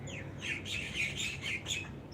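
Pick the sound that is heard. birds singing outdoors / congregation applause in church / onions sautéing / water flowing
birds singing outdoors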